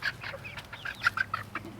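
Americana Easter Egger chicken hens clucking close by in a backyard garden coop, a quick string of short chirpy clucks and murmurs over nearly two seconds.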